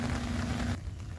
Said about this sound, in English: So the rain is not stopping anytime soon